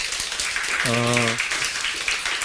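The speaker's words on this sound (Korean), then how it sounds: "박수로 환영하겠습니다" A congregation at a Sunday church service applauds to welcome a member, a steady, dense wash of many clapping hands that runs throughout, with a voice briefly heard over it.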